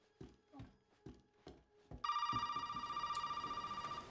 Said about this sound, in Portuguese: Agora está a tocar o telefone.